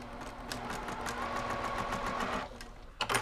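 A sewing machine fitted with a quarter-inch foot runs steadily, stitching quilt block fabric pieces at a short stitch length, close and fairly quiet, then stops with a few clicks near the end.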